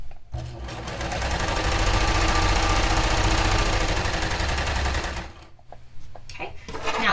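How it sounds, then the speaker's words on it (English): A serger sewing machine stitches along a line toward a fabric corner, running in one fast, steady mechanical whir for about five seconds, then stopping and leaving a few quiet clicks. "we're going to stitch along the first line until we're about 1 stitch from the edge of the corner"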